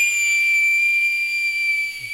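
A pressure cooker lets out a single steady high-pitched whistle that holds for about two seconds and then cuts off.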